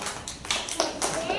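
Young children clap their hands in a short, light patter of uneven claps during a classroom rhyme session, with a voice and other talk mixed in.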